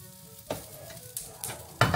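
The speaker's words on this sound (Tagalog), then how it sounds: "Ito na yung ating tocino. Garlic tocino. Yan. Lutuin ko lang at malapit na maluto." Garlic tocino, a sweet cured pork, frying in a pan with a soft sizzle and sharp stirring scrapes, the loudest near the end.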